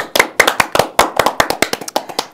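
A small studio audience claps, crisp and close, the separate hand claps loud and slightly uneven for a couple of seconds.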